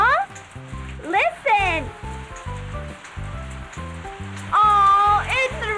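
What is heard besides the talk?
rain falling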